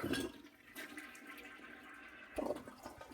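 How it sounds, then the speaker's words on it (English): Household toilet flushed after a septic tank treatment pod is dropped in, giving a faint rush of swirling water with a second gurgling surge near the end. "drop it in the toilet and give it a good old flush"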